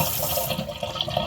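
Cold water runs steadily from a tankless reverse osmosis filter faucet, a continuous close hiss and splash with no voices.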